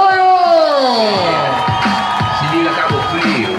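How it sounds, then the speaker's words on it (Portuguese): A rally crowd at a night-time political campaign event in Tamoios, Cabo Frio, Brazil, cheers, whoops and shouts loudly and continuously, a dense roar of many voices with a few high individual yells rising above it. "Aplausos para a Magdala de Tamoio!"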